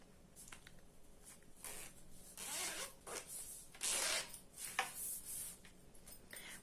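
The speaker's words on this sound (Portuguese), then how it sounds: "nosso zíper, passa mais uma vez e deixa ele posicionado aqui no centro" Zipper pulled back and forth along a fabric pencil case during sewing, several quick rasping zips of varying length, close and faint, with no talking.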